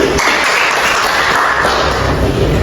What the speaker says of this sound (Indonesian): Kita kasih tepuk tangan ke Bapak Ferdi.